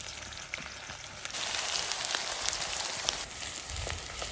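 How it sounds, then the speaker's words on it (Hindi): Onion, green chili and ajwain fry over a fierce rocket stove fire, producing a loud, dense crackling sizzle that swells and holds steady with a few sharp pops, close up and without speech. "ये बहुत जल्दी भुन जाएगा क्योंकि आग बहुत तेज है हमारे यहाँ पे रॉकेट स्टोव में"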